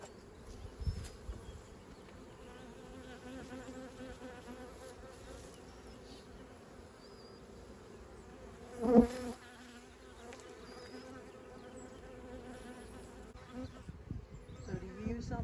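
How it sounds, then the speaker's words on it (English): Honey bees buzz steadily during a hive inspection in a beekeeping class, including drone bees on drone comb, a close, continuous hum with a brief louder swell near the middle and occasional light handling noise. "Those would be drone bees."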